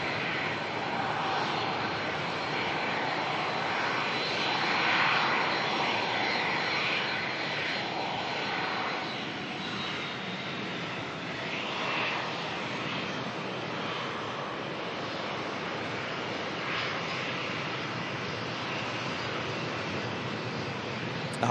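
A Virgin Boeing 737 and a Jetstar jet come in to land at Melbourne, a broad, steady engine roar rising slightly then holding, heard from a distance outdoors with no clear talk.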